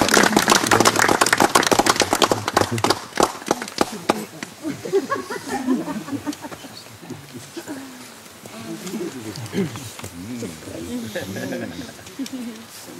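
Wedding guests burst into loud, dense clapping that fades after a few seconds, followed by a person speaking and light scattered claps under the talk.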